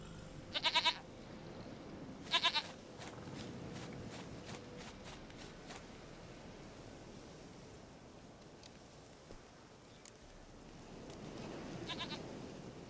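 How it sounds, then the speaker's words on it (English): A goat in The Witcher 3 bleats in two short, sharp calls over a quiet ambient outdoor bed, with soft hoof-like footsteps and a fainter third bleat near the end. "Goat of mine, dearest,"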